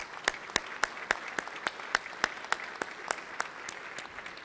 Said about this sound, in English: join me in a round of applause for this hardworking team